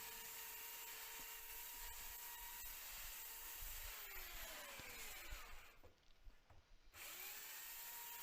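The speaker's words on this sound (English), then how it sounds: "We're just sanding out the router marks. We're going across the grain, coarse grit again, 60 grit" Coarse 60-grit sandpaper rubs across the grain of wood planks to remove router marks, making a continuous close scratchy abrasive hiss that dips briefly before resuming, with a faint tonal whine underneath.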